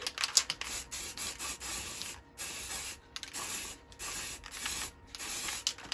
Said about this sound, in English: Quick spray in there, like so.